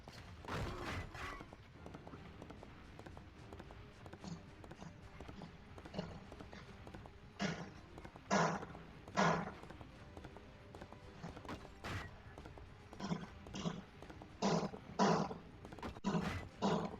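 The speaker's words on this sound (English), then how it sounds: "one of these horses is Marcello" Horses galloping in the video game Prince of Persia: Rival Swords, rapid clip-clopping hoof beats in irregular bursts, with occasional roars and whinnies mixed in against a quiet background.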